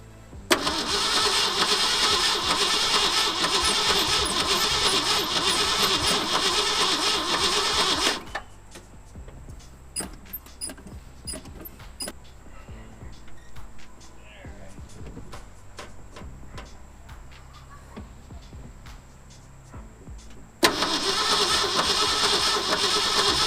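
An old car engine unused for over 20 years cranks loudly for several seconds, stops, leaving quiet clicks and faint talk, then cranks again abruptly at the end.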